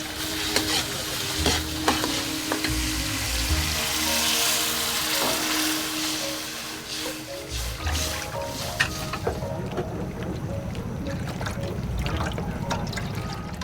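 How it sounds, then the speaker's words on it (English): Garlic and onion sizzle and are stirred in hot olive oil in a wok for noodle soup, a busy close frying crackle with scraping stirs and clatter that quiets toward the end. "You start by simmering some garlic and onion in olive oil."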